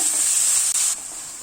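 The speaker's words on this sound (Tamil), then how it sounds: "தக்காளி நல்லா மசிகிற அளவுக்கு வதக்கிக்கணுங்க." Tomatoes sautéing in a pan for masala pasta, giving a loud, continuous close-up sizzle and hiss that eases slightly partway through.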